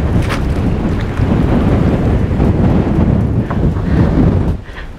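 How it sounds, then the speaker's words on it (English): Strong wind roars and buffets the microphone continuously, a loud, rumbling, gusty rush with no pauses. "Super windy."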